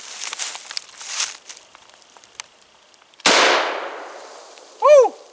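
A birdshot shotgun fired one-handed like a pistol gives a single sharp, loud close blast with a long decaying roll, after some earlier rustling and handling noise and followed by a short, bright ringing tone.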